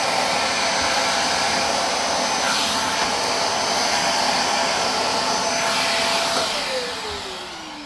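A Bissell Zing 2154 canister vacuum runs with a loud, steady whining roar as it sucks debris out of the cracks in Saltillo tile, then winds down near the end.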